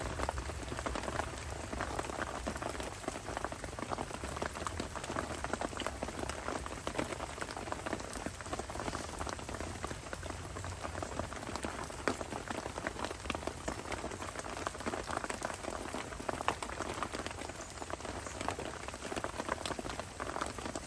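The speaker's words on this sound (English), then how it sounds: "This rain's meant to be in until" Steady rain falls continuously, a dense even patter on surfaces with no voices, constant and moderately loud throughout.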